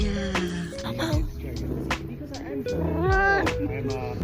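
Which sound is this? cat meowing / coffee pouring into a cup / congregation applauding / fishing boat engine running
cat meowing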